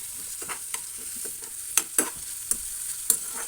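Whole spices such as a cinnamon stick, peppercorns and small bay leaves stirred into chicken feet frying in a pan, with a steady soft sizzle broken by several sharp scraping clacks of the spoon, close by.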